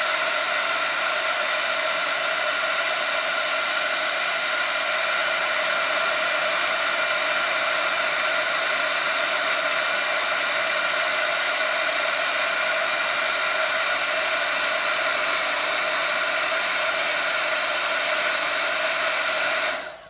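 A heat gun blows steadily at close range for about twenty seconds as it melts embossing powder on a papercraft candle box, a continuous whooshing hiss that cuts off abruptly at the end.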